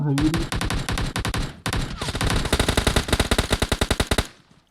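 Rapid automatic gunfire in PUBG Mobile, loud, close bursts of sharp shots in quick succession that thin into separated cracks before stopping, following a brief low voice at the start.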